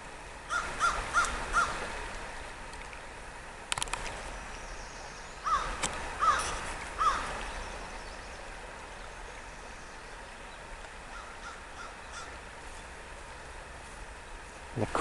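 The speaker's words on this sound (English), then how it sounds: "The crows are crying out with their joyful noise" Crows cawing outdoors in the early morning in late spring beside a stream. Several short bursts of caws come at moderate distance over a steady soft background of flowing water. No one speaks.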